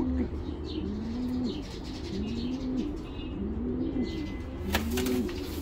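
A 2017 Aramis-line homing pigeon coos close by in a repeated low rolling pattern, about four phrases in a row over a steady background hum, with faint chirps near the end.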